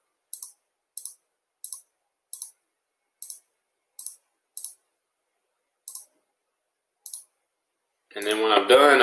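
Computer mouse clicks sounding one at a time at a slow, slightly uneven pace, crisp and close in a quiet room, with a voice starting to talk at the end.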